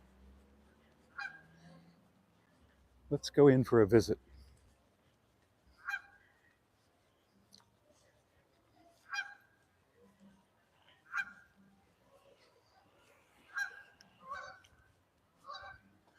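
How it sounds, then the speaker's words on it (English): Canada geese honk in short nasal calls at an outdoor waterfront near a Coast Guard base in Victoria, Canada, with a loud burst of honking followed by repeated single honks, some answering from another direction, with brief talk. "I hear Canada Goose."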